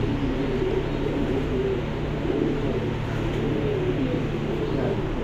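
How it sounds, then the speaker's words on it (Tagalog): Many pigeons cooing from a neighbouring building, a steady low murmur of overlapping coos with a constant background hum. "Ang daming kalapati dun sa kabilang building."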